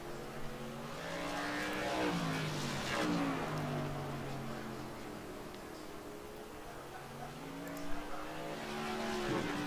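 NASCAR Modified race cars lap the South Boston track in iRacing, their engines droning and rising and falling in pitch as they pass through the turns, with a steady loud rumble throughout.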